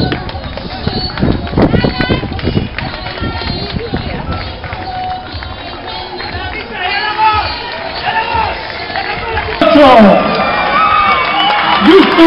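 Spectators at the finish line of a junior men's European triathlon championship in a Pontevedra stadium clap and cheer as athletes arrive, a steady crowd roar with a commentator speaking over it throughout.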